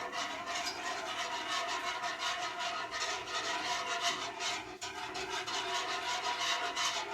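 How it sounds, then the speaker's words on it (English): Homemade mac and cheese sauce being whisked makes a steady, brisk scraping swish, continuous and close with a regular rhythm throughout. "back to whisking, because if we don't continue to whisk, it'll settle"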